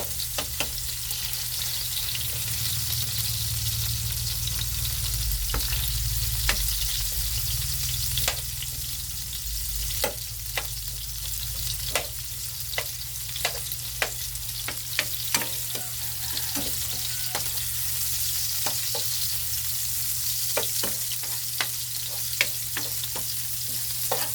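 Chopped onion sizzles steadily in a hot pan for a Filipino pakbet vegetable dish, with frequent sharp clicks and scrapes of a utensil stirring against the metal; close, continuous, and with no talking.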